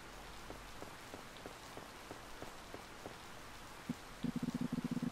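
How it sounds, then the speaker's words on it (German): Steady rainfall in the farming video game Harvest Moon: Licht der Hoffnung, a soft patter of drops on the ground with a short run of sharper rhythmic game taps near the end, no talking. "Es regnet. Brauchen wir wenigstens nicht gießen."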